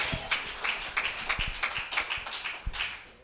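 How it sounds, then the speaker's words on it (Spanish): A church congregation at a worship service applauds the Lord, scattered distinct hand claps in an uneven rhythm rather than a dense roar, moderately close and fading slightly toward the end. "Dele un fuerte aplauso para la honra y la gloria del Señor."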